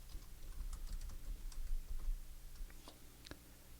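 Quick, light keystrokes on a computer keyboard, a rapid irregular run of soft clicks lasting a few seconds, recorded close and quiet in an otherwise still room.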